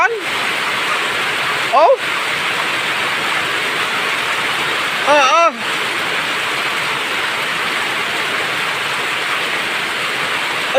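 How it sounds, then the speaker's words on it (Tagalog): Heavy rain from Typhoon Ramil pours steadily onto a flooded street, a loud, unbroken wash of hiss that fills the whole stretch, with a person briefly calling out twice over it. "Ay tunay na pagsalakas ng ulan yan."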